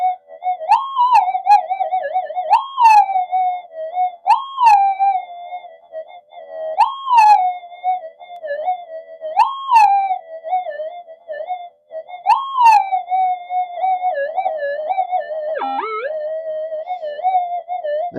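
A Minelab GPX-4500 metal detector emits a noisy, warbling threshold tone close up, rising in repeated electronic whoops over a steady underlying hum, with no talking.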